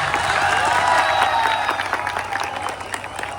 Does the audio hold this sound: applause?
yes